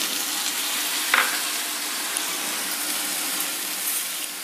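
Chopped carrot and cabbage for veg momos frying in a pan, giving a steady soft sizzle with one brief scrape of a spatula, heard alone without talk.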